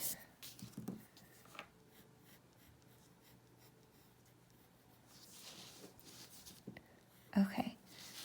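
Pencil scratching on paper while an eye is drawn, soft continuous scribbling strokes up close, with a few louder scrapes and a sharper stroke near the end, under faint breathy background.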